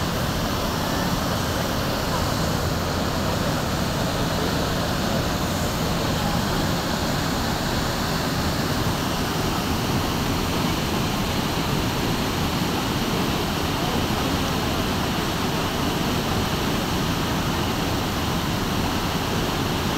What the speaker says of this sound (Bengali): দেখতে পাচ্ছেন যে এই ঝর্ণাটা কীভাবে কেমন হয়ে যাচ্ছে